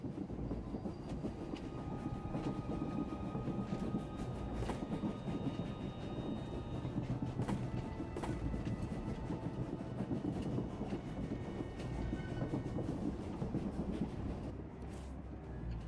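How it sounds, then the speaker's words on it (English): Train rolling along in Star Wars: The Old Republic (SWTOR), Crisis on Umbara flashpoint: a steady, loud rumble of wheels and carriage with rhythmic clicks and clanks throughout, no talking. "The train is on the move, and the traitor's on board."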